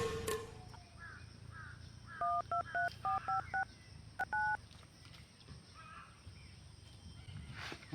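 Mobile phone keypad tones beep in a quick run of short, evenly spaced presses, then two more after a pause, faint against quiet room background.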